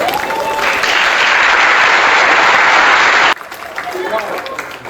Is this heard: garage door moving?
no